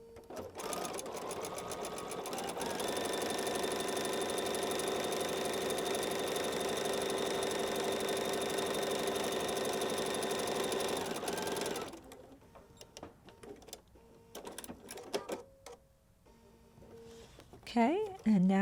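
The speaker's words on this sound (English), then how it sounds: "We're gonna sew directly on our drawn lines." A sewing machine stitches a patchwork block along drawn lines, running steadily and fairly close for about twelve seconds before stopping, followed by scattered clicks and handling of fabric.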